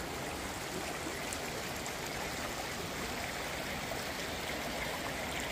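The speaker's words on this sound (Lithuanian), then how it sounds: "Va, atiteka upelis." The Skernė stream in the Alytus district flowing into a tunnel, a steady close rushing and gurgling of water filling the whole clip with no talk.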